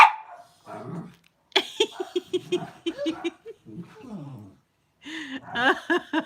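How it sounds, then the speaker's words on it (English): Several dogs bark and yip in short bursts, some distant, mixed with a person's chuckling and murmured talk nearby. "Do you hear the other wee dog out there now barking?"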